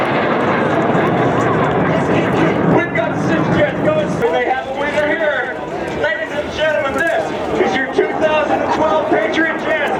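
Jet aircraft from the Patriot Jet team fly at the Reno Air Show, their engines roaring loud and steady the whole time as an announcer talks over the PA.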